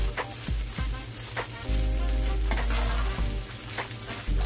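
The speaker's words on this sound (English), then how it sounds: "So, isauté lang natin ito." Colourful vegetables, including carrots, sauté in a pan for crab paste fried rice, giving a loud, steady close sizzle broken by repeated scraping stirs.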